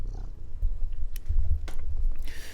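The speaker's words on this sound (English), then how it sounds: "You hear that purring?" A cat named Ash purrs close up, a low, continuous rumbling throb that pulses steadily, with a few soft clicks and rustles on top and no talking.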